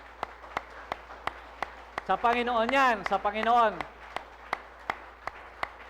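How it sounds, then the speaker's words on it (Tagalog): A church congregation at a Sunday worship service claps in sharp, evenly spaced beats, steady and fairly close, continuing while someone speaks loudly over the middle of the clapping. "Sarap pumalakpak sa Panginoon"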